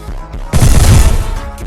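Gunfire in a shooter video game erupts as a loud, close burst of rapid shots with heavy low thump, lasting about a second after a quieter lead-in, then trailing off.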